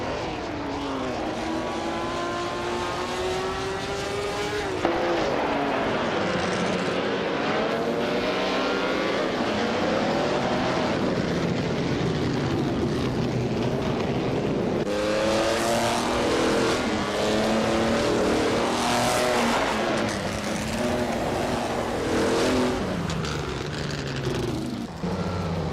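Vintage Formula 1 cars, including a 1960 Scarab F1 and a 1950 Ferrari 375 F1, race in a video game, engines howling loudly and continuously as revs climb and drop through gear changes, one car passing close by.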